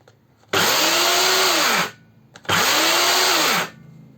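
A STIHL E 140 electric chainsaw is switched on and runs twice in loud, steady whining bursts of over a second each, spinning up and winding down between them, with no talking over it.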